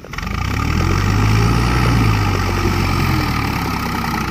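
A Swaraj 744 XT tractor with a trolley idles steadily in the rain, a loud, close, low diesel rumble with an even throb that holds for several seconds without change.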